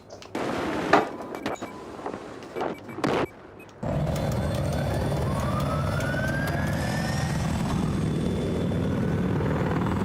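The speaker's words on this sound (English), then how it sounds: "Chopper dead ahead." Attack helicopter in a video game set on a railway, its rotor droning loud and steady for several seconds after some earlier gunfire-like bursts and game noise.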